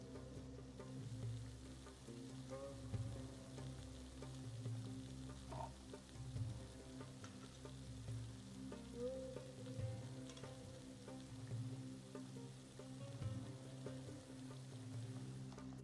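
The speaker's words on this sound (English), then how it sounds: "Let's add the briwats and fry them." Moroccan phyllo triangles filled with ground beef and eggs fry in hot oil, giving a steady, soft sizzle and crackle that continues evenly throughout, quiet and close, with no talking.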